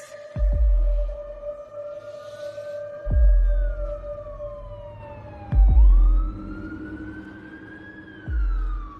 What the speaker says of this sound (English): we heard the sirens coming down the road